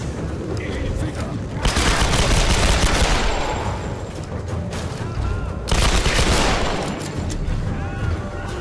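In Tomb Raider, heavy gunfire comes in two loud, dense bursts of rapid shots with a rumbling tail between them, close and filling the scene, and a voice talks in between.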